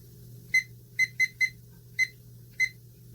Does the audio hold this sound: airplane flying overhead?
no